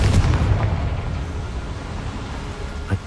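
A Confringo blasting curse explodes in the Hogwarts Legacy video game, a heavy booming burst at the start that trails into a long, loud rumbling roar, with a smaller pop near the end.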